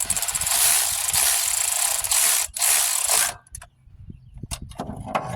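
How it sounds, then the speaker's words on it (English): A torque wrench ratchets steadily while bolts are tightened to 22 foot-pounds in a roomy engine bay, the dense clicking running for about three seconds before giving way to a few scattered mechanical clicks and knocks. "I'll torque these all to 22 foot-pounds. Which won't be hard to do with the torque wrench"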